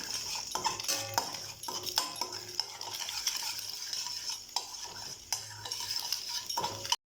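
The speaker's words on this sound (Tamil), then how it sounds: "அதனால் முட்டையை அப்படியே கொத்தி எடுத்துடலாம்" A spatula chops and scrambles egg in a hot pan, with sharp repeated metal taps and scrapes against the pan over a soft sizzle, close and fairly quiet, irregular rhythm.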